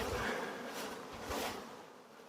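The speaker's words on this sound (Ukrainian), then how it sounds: "Тут в нас теж рій." A swarm of honey bees buzzes loudly at an apiary, a dense droning hum with swelling and fading intensity, close by and without speech.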